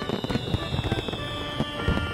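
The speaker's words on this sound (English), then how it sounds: "looked up at the night sky as the fireworks began" Fireworks bursting over a night sky at a nighttime celebration, a steady run of crackling pops and booms filling the scene at moderate loudness with no voices.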